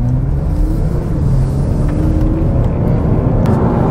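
Steady, loud engine drone from a 2021 Toyota Avalon TRD front-drive sedan under way, held above 3,000 RPM with a continuous low rumble and road noise throughout and no talking.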